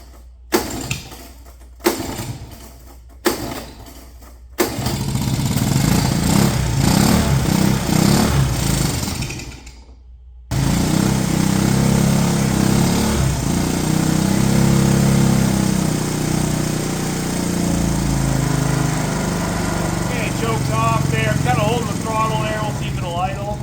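A 1970 Honda US90 barn-find motorcycle engine gives a few short kick-start attempts, then fires and runs with a steady, loud putter, revving briefly, with the engine dropping out once before restarting and idling close by.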